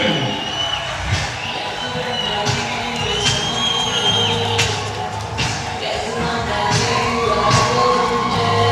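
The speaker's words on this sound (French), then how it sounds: "monsieur Volonté Kamade, vos acclamations" A crowd at a stage event in Butembo cheers and shouts, with children's voices and whoops rising over a continuous murmur, loud and sustained with scattered thumps.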